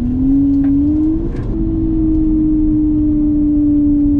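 A high-revving car exhaust note played through a phone speaker holds a steady loud drone, rising briefly in pitch around the middle before settling back, with no talk.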